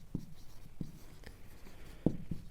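Chalk or marker writing on a board while working out factors of numbers in a math lesson, a few soft, distinct taps and scratches at irregular intervals, up close and quiet.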